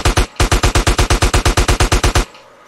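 Rapid gunfire in GTA San Andreas Definitive Edition: a loud burst of about eighteen evenly spaced shots in quick rhythm, ending abruptly and followed by a faint tail.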